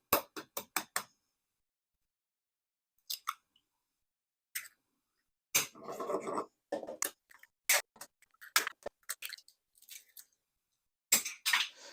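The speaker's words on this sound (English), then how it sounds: "we have to beat these eggs until they're double in volume" Eggs beaten by hand in a bowl until doubled in volume, heard as bursts of quick, sharp clicking and tapping strokes separated by silent pauses, with a brief softer, wetter stretch in the middle; close and fairly quiet.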